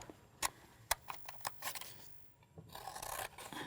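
Scissors cut strips of paper for a craft gecko, giving a run of quick, close snips and crisp rustles, with a softer rasping stretch toward the end.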